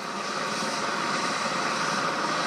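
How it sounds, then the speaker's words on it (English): Helicopter starting up on the ground before takeoff, its engine and rotor giving a steady, loud broadband roar that holds evenly throughout without a break. "And the helicopter's now sorting itself out."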